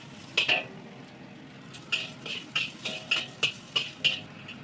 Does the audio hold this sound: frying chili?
yes